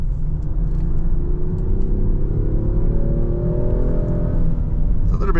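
A 2025 Range Rover Sport P460e pulls hard in dynamic mode, its engine note rising steadily as it accelerates, with a synthetic sound layered through the cabin over a constant low road rumble.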